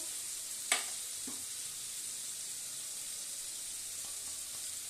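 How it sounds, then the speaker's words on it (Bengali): Ginger paste is added to a hot pan and sizzles steadily, a bright continuous frying hiss with a brief sharp spatter burst near the start and a few soft stirring clicks later. "এটার মধ্যে আদা বাটা দিলাম, এই 1 চামচ মতো।"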